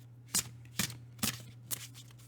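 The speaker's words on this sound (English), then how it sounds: "Just shuffling till I get a dream card coming up to the top." Tarot cards being shuffled by hand, four crisp riffling bursts at an even rhythm, close and fairly quiet over a low steady hum.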